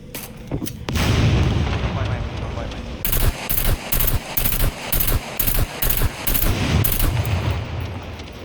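Gunfire and explosions in the survival game SCUM: loud booming blasts followed by a steady, rapid burst of repeated automatic shots, dense and close throughout.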